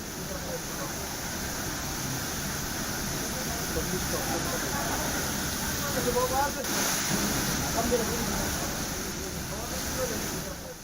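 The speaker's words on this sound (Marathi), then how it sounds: "सीतानहाणी धबधबा हा आता ओसंडून वाहू लागलेला आहे" A continuous heavy roar of rushing water from the Sitanahani waterfall overflowing in full flow, broad and steady throughout, with faint voices of crowds mixed in.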